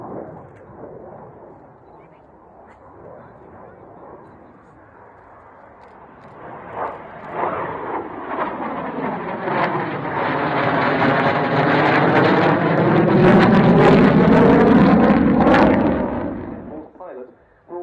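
A silver double-delta jet flies a low display pass at RAF Waddington Airshow 2013, its engine roar building from a distant rumble to a loud, sustained sweeping pass before cutting off, with a commentator talking over it.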